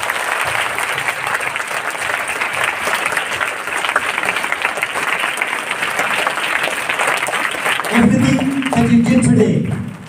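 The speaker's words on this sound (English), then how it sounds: "Let's give them a big applause." Audience applauding after a performance, dense, sustained clapping throughout, with a voice speaking over it near the end.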